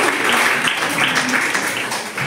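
Dense crowd applause at the Wayanad Festival stage event as the chief guest is welcomed, a loud, sustained wash of clapping with no breaks.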